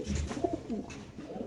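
A Super Mili pigeon, a long-necked fancy breed kept in a cage at a loft, gives soft low coos over a murmur of background noise for a moment, fairly faint.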